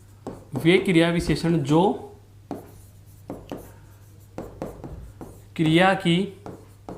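Chalk scratches and taps on a board during a Hindi grammar lesson, heard as short, dry strokes in the pauses between a teacher's close, loud speech.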